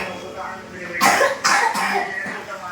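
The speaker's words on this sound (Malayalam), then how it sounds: "നല്ല ചുമയാ." A young twin child with a cough and cold gives a few harsh, close coughs in bursts at an Ayurvedic hospital, with adults talking in the background.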